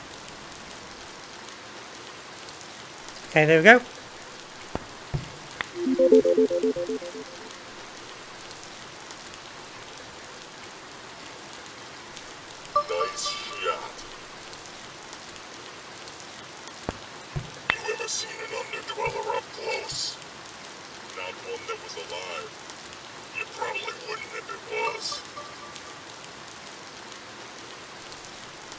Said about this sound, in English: The rain effect's really well done.